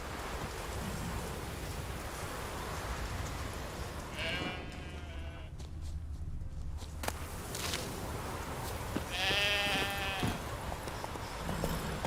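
Two distinct sheep bleats from the video game The Witcher 3: Wild Hunt, each a short wavering cry, sound over a steady bed of rain-like hiss with no talking.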